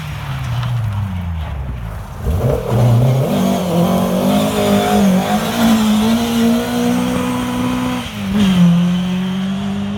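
A Honda S2000 tarmac rally car races through an asphalt stage of the Pirelli International Rally, its engine revving hard and loud through gear changes with rising and falling pitch, passing close by.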